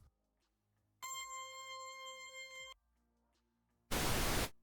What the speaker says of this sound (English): I can also show you how to make such effect from a pink noise.